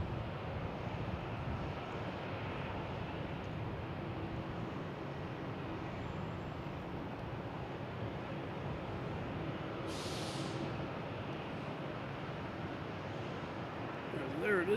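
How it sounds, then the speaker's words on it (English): UPS Boeing 767 landing on runway 27 at Boston Logan, a faint, steady distant jet roar with broadband airport background noise throughout. "Next to land on 27 is UPS 767 coming in from Ontario,"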